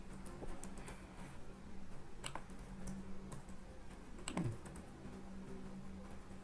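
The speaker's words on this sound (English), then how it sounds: "you can't see what I am typing." Someone types steadily on a computer keyboard while filling in HTML form inputs, light quick keystrokes clicking close up with no talking.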